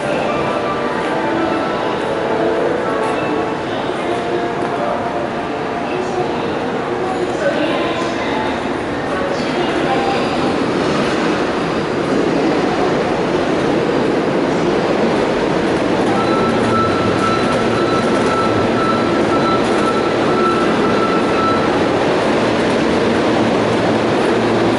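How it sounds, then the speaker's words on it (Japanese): A Kintetsu train heading from Kobe toward Nara rumbles steadily on the rails in a loud, continuous wash of carriage noise, with someone talking over it. "もう間もなく発車なんですけどね。"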